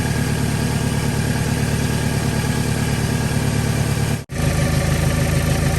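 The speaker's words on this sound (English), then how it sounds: "it's been running for about 5 minutes now, and there's no oil leaking" A 1997 Toyota Camry engine idles steadily up close, a continuous droning hum with a brief dropout near the end, no voices.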